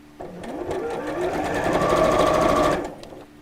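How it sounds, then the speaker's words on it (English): Sewing machine stitching straight across a fabric seam, a loud close whirring run that ramps up, holds steady for about two and a half seconds, then stops. "just sew straight across the top of there"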